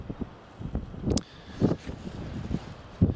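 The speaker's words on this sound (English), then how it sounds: "You all might hear a little bit more wind noise. The breeze has just picked up a little bit" Gusty wind buffets an outdoor microphone at an airport planespotting spot, low rumbling bursts that rise and fall irregularly, close and moderately loud, with no talk.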